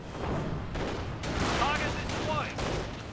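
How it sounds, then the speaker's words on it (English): An anti-tank gun firing in the World War II strategy game Company of Heroes, several booming shots and explosions in a busy battle mix, with a commentator talking over the gunfire. "I think that's an AT gun shooting away"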